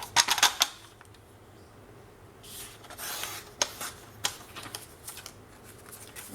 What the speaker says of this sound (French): je vais couper ici pour avoir un carré parfait